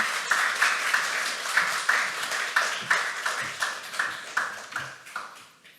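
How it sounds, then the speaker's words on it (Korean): A church congregation at Sunday worship claps together in a steady, regular rhythm of about two claps per second, moderately loud, tapering off at the end. "우리 박수로, 큰 박수로 환영할까요?"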